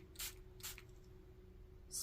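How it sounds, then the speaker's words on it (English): Two short hissing bursts of a spray bottle spraying blue RIT fabric dye onto paper close by, followed by a third starting at the end, over a faint steady hum. "I'm gonna spray some of the blue spray."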